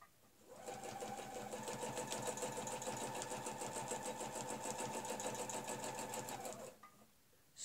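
A sewing machine stitches a quilt block in one steady, even run of about six seconds, close and fairly quiet, starting and stopping cleanly.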